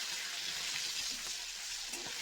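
Chilli and garlic sizzle steadily in fish oil in a wok, a dense, even crackle of hot frying with no talk.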